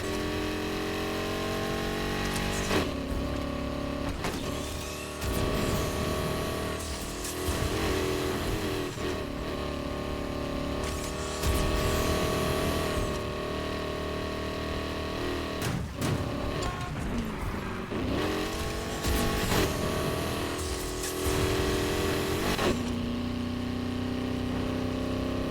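A 1500HP Dodge SRT Challenger Demon drives continuously with a loud, close engine drone that surges and revs repeatedly, and brief scraping knocks break in between.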